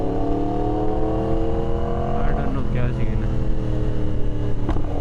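A Yamaha R1S motorcycle engine drones steadily and loudly during a night ride, a continuous rumble with slight rises in pitch, while a rider talks over it.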